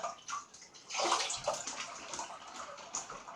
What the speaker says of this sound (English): Now I'll just rinse my face off.